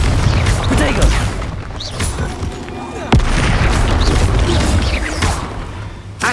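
Spell casting and magical blasts in Hogwarts Legacy while fighting a troll, a steady rumble of booms and bursts with one sharp crack near the middle, heavy and close under a speaking voice.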